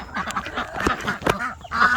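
Several free-ranging ducks quack close by in a morning farmyard among chickens, a busy overlapping run of nasal calls with short gaps.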